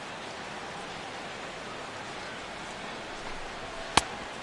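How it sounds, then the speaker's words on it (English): Steady rain pours over a ballpark in MLB 16 The Show during a Dodgers vs Red Sox game, a continuous even hiss filling the scene, with one sharp brief tick near the end. "The rain, as we've mentioned, coming down fairly steadily here at game time"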